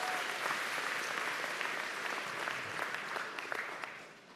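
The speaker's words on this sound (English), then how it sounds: "Let's give them a round of applause to thank them for all they do." A town hall audience applauds at length, a steady dense roar of clapping that fills the room and eases slightly toward the end.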